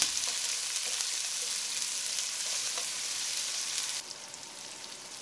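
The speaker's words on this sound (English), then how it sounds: "Now it's time to add the sliced red onions into the pot, and we need to fry the onions for at least 2 to 3 minutes." Sliced red onions fry in a pot with a steady, dense sizzle that holds even throughout, dropping slightly softer near the end.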